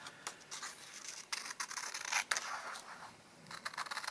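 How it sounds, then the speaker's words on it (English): Scissors snip through paper cut into narrow strips for making paper beads, a quiet series of short crisp cuts repeating close by with no talking. "point your scissors in the right direction and they will give you lovely straight lines"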